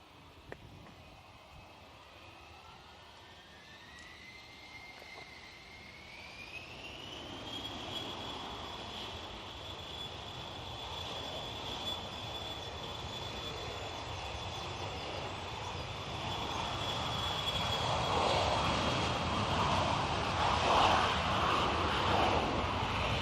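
A fixed-wing aircraft takes off down the runway at Bristol Airport: a distant jet whine rises in pitch and then holds steady as the engine roar builds gradually over wind noise.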